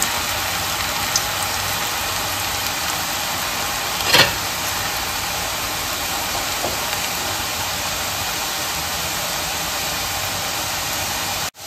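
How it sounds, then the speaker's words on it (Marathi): Chakli dough frying in hot oil over a low flame, a steady soft hiss and fine sizzle running the whole time with one brief louder crackle partway through. "चकली टाकून घेऊया। मंद आचेवर तळू द्यायची।"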